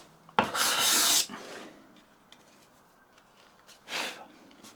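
A scraper plane takes very fine shavings from wood, set forward at about 60 degrees, giving two rasping strokes: a loud, close one lasting nearly a second and a shorter, softer pass a few seconds later.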